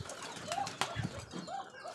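Koka pigeons flap their wings inside a cage in short, close, fluttering bursts, with a faint coo-like murmur between the flurries.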